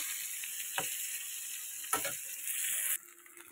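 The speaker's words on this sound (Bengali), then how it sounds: "তো পটলে দেখো ভাজা চলছে" Pointed gourd (potol) frying in a pan gives a steady close hiss with a couple of brief scraping clicks, and the sizzle drops away near the end.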